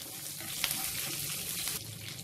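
Dried red chillies and fresh curry leaves fry in hot tempering oil for a peanut, mint and tomato chutney, giving a close, continuous crackling sizzle with a couple of brief sharper pops and no talking.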